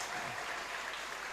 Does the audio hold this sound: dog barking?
no